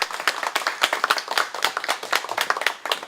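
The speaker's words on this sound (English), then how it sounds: "Big round of applause for Dr. Chen." A small audience at a community event in San Marino, California applauds Dr. Chen with close, distinct handclaps in an uneven patter, loud and without voices.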